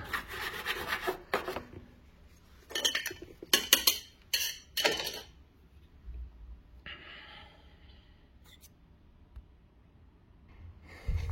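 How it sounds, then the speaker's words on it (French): A car's inner wheel arch, caked with built-up dirt, is scrubbed with water: bursts of close, rasping brush strokes in uneven clusters, with quieter dripping and rubbing in the pauses. "Bon, je vais nettoyer ça avec de l'eau."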